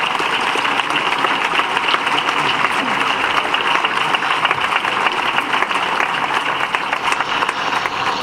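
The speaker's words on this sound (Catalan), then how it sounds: "Un fort aplaudiment per a Manolo, per favor." Sustained applause from an audience at a tribute event in Valencian Catalan, steady dense clapping held at even loudness throughout without a break.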